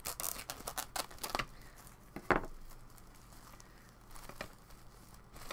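Scissors cut through tough plastic packaging in a handful of crisp snips and crinkles, one sharp cut standing out mid-way, close and fairly quiet with no talking.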